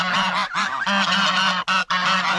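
Ducks and a turkey on an African farm give loud, continuous honking calls that repeat with only brief pauses, close by and with no voices.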